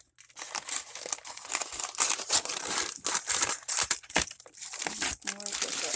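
Paper being cut and handled for the strap of a homemade dinosaur journal: close, continuous crinkling and snipping rustles in uneven bursts over six seconds, with no talking.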